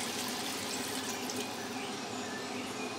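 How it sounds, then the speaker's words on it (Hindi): Water pouring into a pot of chicken and arbi (taro) curry to make gravy, a steady close rushing splash of liquid without any speech. "तो जी यहाँ मैं पानी डालूँगी।"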